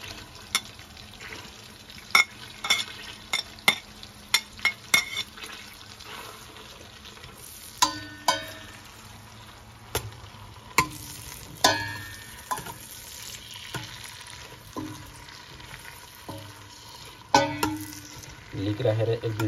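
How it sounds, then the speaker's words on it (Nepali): Chopped leek cooking in melted butter in a pot for salmon soup, stirred with scattered scraping clicks and knocks over a faint, steady sizzle, with brief voices now and then. "अब मैले लिक राख्दैछु"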